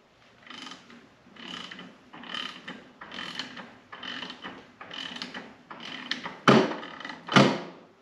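A torque wrench ratchets in about eight regular, close strokes while tightening the clutch bolt on a Ski-Doo Rev MXZ 550F snowmobile; the last two strokes are sharper and louder.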